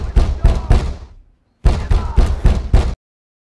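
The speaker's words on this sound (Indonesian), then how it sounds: "mereka mendengar suara ketukan keras di depan pintu" Loud, heavy knocks pound on a door in a film scene: four quick thuds, a short silence, then five more in a rapid burst.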